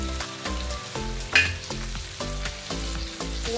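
Chili and a paste of white and black mustard seeds fry and sizzle in a pan while being stirred. Rhythmic scraping strokes repeat over a continuous close hiss, with one sharper clatter near the middle and no voices.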